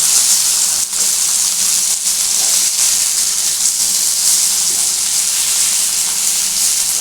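Ridge gourd slices frying in oil in a pan, a steady, loud broadband sizzle and hiss running unbroken throughout, close by, with a few faint scrapes.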